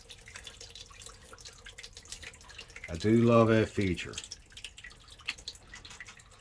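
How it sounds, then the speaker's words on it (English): Water runs out of the engine drain on a Mercruiser 5.0 MPI in a Maxum 2400SD deck boat as a knob is turned, a short trickling and splashing burst under nearby talk. "You just pretty much turn this knob here, and this is how you let the water out."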